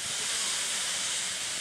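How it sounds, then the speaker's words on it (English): A steam train leaving the Vatican lets off a loud, steady hiss of steam, close and unbroken, with no other sound over it. "Black smoke and the hissing sound of steam emanate from a train leaving the Vatican, bound for the historic Italian town of Castel Gandolfo"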